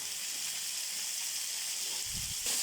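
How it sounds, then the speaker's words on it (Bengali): Vegetables frying in a wok, a steady hissing sizzle heard close, with a brief low rumble of stirring near the end. "এবার ভালোভাবে একটু ভাজতে হবে।"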